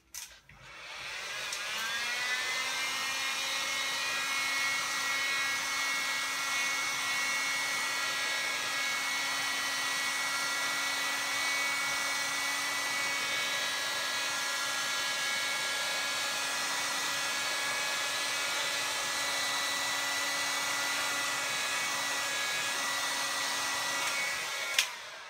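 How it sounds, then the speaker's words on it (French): Hair dryer heating the screen edges of a OnePlus One phone during a screen replacement, a steady loud whirring blow that starts abruptly and holds a constant pitched hum for about twenty-five seconds, alone without talk. "Donc pour cela, on va utiliser un sèche-cheveux"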